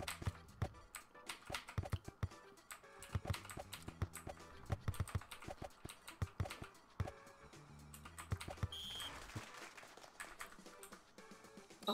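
Two players share one computer keyboard and hammer it in quick, irregular bursts of sharp clicks and taps that sound close and busy and keep going throughout.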